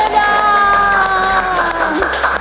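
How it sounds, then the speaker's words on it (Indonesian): High school students in an Indonesian classroom clap and cheer, a close, lively mix of shouting voices and clapping with some tonal vocal sounds running through it. "tepuk tangan dulu"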